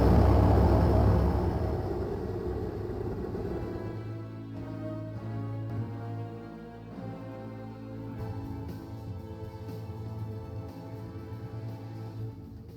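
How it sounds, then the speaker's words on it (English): A loud aircraft engine roar from a plane in Left 4 Dead 2 swells at the start, then settles into a steady droning rumble with low hum beneath, no talking. "That plane is so loud."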